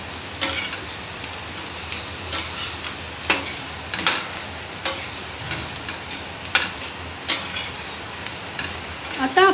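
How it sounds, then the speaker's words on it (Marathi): Bitter gourd shallow frying in an open pan over a low flame: a continuous sizzle with regular sharp scraping strokes as the pieces are stirred, fairly close and with no talk. "मंद आचेवर यांना आता आपण शॅलो फ्राय करणार आहोत।"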